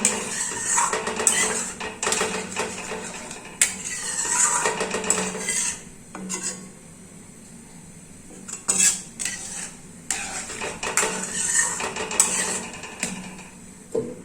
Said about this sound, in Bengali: এবার ক্যারামেলটাকে আমি ভালো করে মিশিয়ে যে ক্ষীরটা আমি বানিয়েছি সেটাকে আমি আরো ঘন করে নিচ্ছি